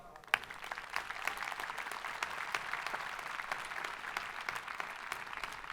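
A commencement ceremony audience breaks into sustained applause, a dense, even patter of many hands clapping at a distance, steady from start to finish.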